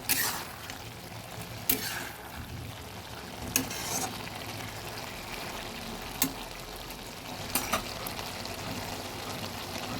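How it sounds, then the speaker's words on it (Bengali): Kechki fish with flat beans and potato frying in a pan, a soft continuous sizzle broken by a few sharp scraping knocks as a spatula gently stirs, close and steady. "ঢাকাটা তুলে দিচ্ছি হালকা হাতে একটু নেড়ে দেবো"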